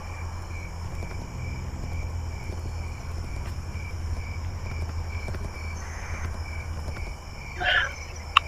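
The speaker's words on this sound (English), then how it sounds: "try and record this katydid and hope the camera picks it up well enough" A katydid calls at night among other insects and frogs. Its steady, faint high-pitched trill runs throughout over a constant low hum, with a brief louder rustle near the end.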